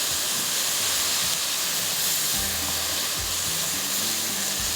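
Masala frying in a pan while being pressed down for a kebab chutney, making a loud, dense, continuous hiss and sizzle close up, with low thumps underneath and no talk.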